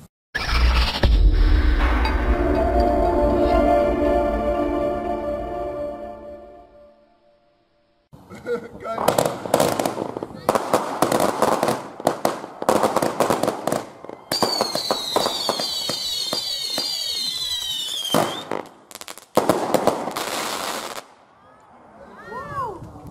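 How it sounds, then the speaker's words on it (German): A Helios 45-shot, 20 mm calibre multi-effect fireworks battery fires in rapid bursts of crackling pops and booms, with whistling tails between shots, continuing for many seconds before a short pause and fading out. "Helios Feuerwerk, 45 Schuss, ja, 20 mm Kaliber, so Multi-Effekt-Batterie glaube ich"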